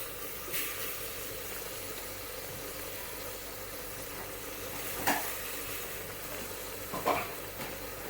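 Tomato, onion, mint and coriander sauté in a pan for tomato rice, giving a quiet steady sizzle with occasional spatula clinks and scrapes against the pan, close and without speech.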